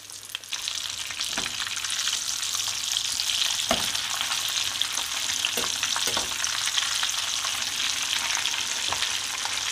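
Kadınbudu köfte meatballs fry in hot oil with a steady, close, even sizzle, broken now and then by soft clicks and stirring knocks; no one speaks.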